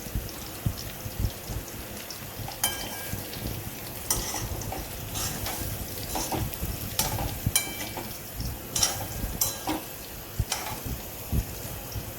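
Oil sizzles steadily in a pan of frying patra fritters made with colocasia leaves while a utensil stirs and scrapes intermittently, close up with no talking.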